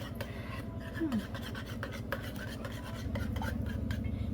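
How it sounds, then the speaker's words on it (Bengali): A whisk stirs a yogurt mixture for mishti doi in a bowl, giving a fast, steady rhythmic scraping and clicking that carries on throughout, fairly quiet and close. "এই যে হুইস্কটা দিয়ে আমি সুন্দর করে নেড়ে এভাবে বাবল ক্রিয়েট হবে এভাবে"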